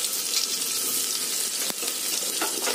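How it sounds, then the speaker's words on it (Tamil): Coriander and cumin sauté in a pan for a fenugreek greens dal, giving a continuous loud sizzle with a single sharp scrape of stirring partway through and no voices. "நல்லா சிவப்பா ஆகிற மாதிரி வதக்கி விடுங்க"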